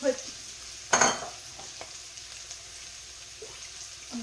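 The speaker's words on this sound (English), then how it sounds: "mix the mushroom, and I'm going to put some of the juice in, the shells" Mushrooms being stirred in a pan for a creamy mushroom sauce: a single sharp scrape and clatter of the utensil, then quiet, soft sizzling with a few faint knocks.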